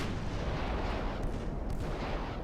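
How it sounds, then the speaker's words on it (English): Torpedoes launch from warships in the naval game Ultimate Admiral: Dreadnoughts, a dense, rumbling blast of low booms and cracks that fills the whole moment, loud and close. "Oh, torpedoes are launched, I heard them."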